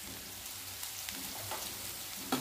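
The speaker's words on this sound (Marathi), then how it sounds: "कांदा परतून घेऊया" Onion sautéing in a pan for a masala pav made from leftover bread gives a steady, soft sizzle with faint crackles and one brief clink near the end. No voice is heard.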